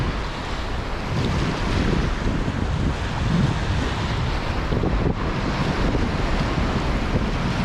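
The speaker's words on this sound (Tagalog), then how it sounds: "Medyo may alon." Sea waves and steady wind rush past a small fishing boat out on slightly choppy water. The broad, constant roar of wind buffets the microphone, with no voices.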